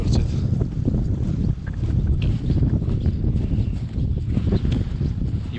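Strong wind roars across a microphone in winter snow in Snowdonia, a dense, continuous low rumble that stays loud and close throughout.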